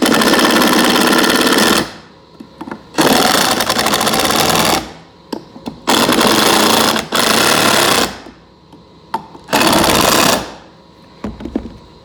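A power drill runs in four sustained bursts of about two seconds each, driving screws into wood to pull a joint tight, with short clicks and handling noises in the pauses between bursts.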